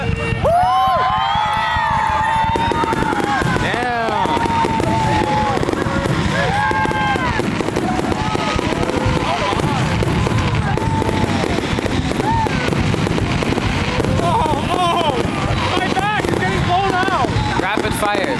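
A 4th of July fireworks show in Collingswood bursts with continuous crackling and booming, whistling rockets rising throughout, while a crowd cheers and people talk nearby.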